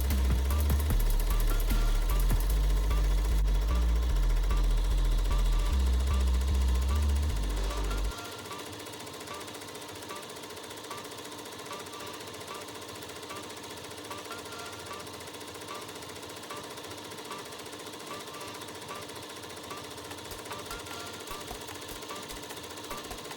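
An embroidery machine stitches out a client's logo in a steady, rapid mechanical chatter, with a heavy low thumping rumble for the first eight seconds before the running sound settles lighter and continues.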